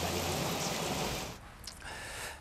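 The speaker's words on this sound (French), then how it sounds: "de gros nuages se forment qui, lorsqu'ils sont saturés, déversent des torrents de pluie sur les vallées." Heavy rain pours down in a steady, dense broadband hiss, loud and continuous for the first half before easing to a slightly lighter, still constant downpour.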